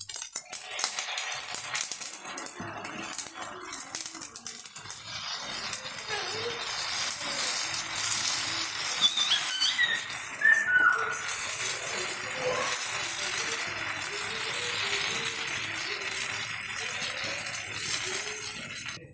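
Masala dosa batter made from ration rice hitting a hot griddle, a soft sizzle and hiss with light metallic clinks and rattles of a ladle, under quiet talk in Kannada.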